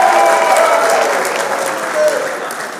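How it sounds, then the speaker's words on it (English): Applause from an audience at a church community youth gathering, dense steady clapping that swells at once and gradually thins out, loud and close, with no speech over it. "Let us give a big clap for him."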